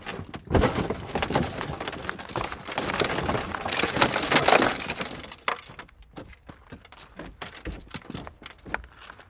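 Benchmade Triage rescue knife's glass breaker smashing a car window: a loud, dense crunch of shattering glass with splintering crackles lasting several seconds, then scattered clinks and small cracks as fragments settle.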